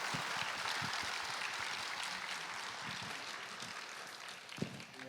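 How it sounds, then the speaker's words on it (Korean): Audience applause at a church talk concert, thanking the guests at the close: a broad, even wash of clapping held steadily throughout, fairly quiet and distant, with a few low thumps and no voices. "우리 함께 하신 우리 게스트분들도 다시 한번 감사의 박수 부탁드립니다"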